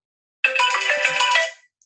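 A phone ringtone sounds once, loud and close, a bright electronic melody lasting about a second before cutting off, with no talk over it.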